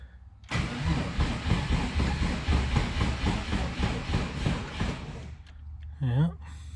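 A Subaru Impreza with a swapped EG33 turbo engine on a weak battery cranks and catches, then runs loud and steady with a rough rhythmic churn for several seconds before cutting off, followed by a short voice.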